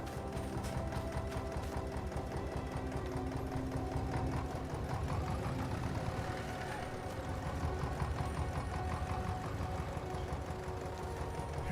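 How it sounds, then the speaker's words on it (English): A 1954 vintage tractor engine runs at a steady rhythmic chug on a farm, close and continuous with a fast regular knocking beat, no one talking. "let's move this tractor a little further forward."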